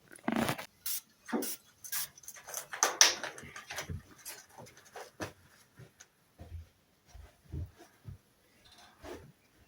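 Irregular crackling, tearing and crunching of newspaper up close as a parrot chews it in its cage, in scattered bursts with brief pauses, no talking.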